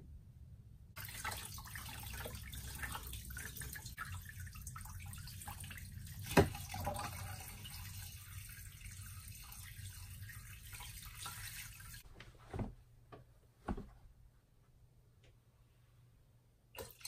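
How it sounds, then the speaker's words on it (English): Water from an aquarium poured onto wood inside a 5-gallon Top Fin glass tank, a steady quiet splashing and trickle for about eleven seconds, then a few faint drips and clunks as the pour stops. "Let's see how it goes when I pour this directly onto the wood."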